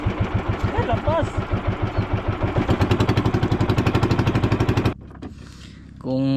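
A small fishing boat's engine chugs at a steady, rapid beat close by, then cuts out abruptly, leaving quieter sounds and voices at the end.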